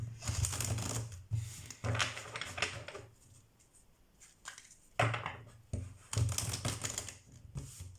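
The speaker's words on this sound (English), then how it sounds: "I'm gonna shuffle the deck." Several quick riffling bursts of a card deck being shuffled, each lasting about a second, separated by short quiet pauses, close and crisp.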